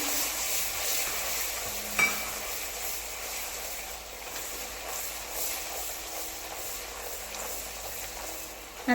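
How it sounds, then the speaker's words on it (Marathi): Crab curry masala with crab brains frying in oil, a steady broadband sizzle holding throughout with a faint stir or tap near the start and end. "आणि एक ते दोन मिनटं छान असं तेलावरती परतवून घ्यायचं आहे"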